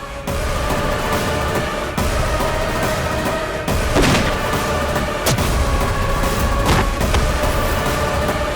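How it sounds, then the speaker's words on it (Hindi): Several sharp gunshots crack out one by one at irregular intervals, loud against a steady dramatic music and ambience bed in a Hindi television serial scene. "ये तो गोली की आवाज है।"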